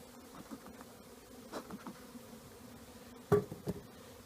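A steady drone of many honey bees buzzing close by at an open hive while being moved from a nuc box into a deep box, continuous and low, with a few soft knocks and taps over it.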